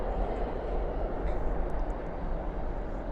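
An airliner rolls out after landing at night at DFW with spoilers up and thrust reversers out, giving a steady, loud, broadband low roar that holds evenly throughout with no break.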